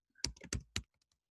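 Rapid keystrokes on a computer keyboard, a handful of crisp close clicks in a short burst followed by a few fainter taps, alone in a quiet room.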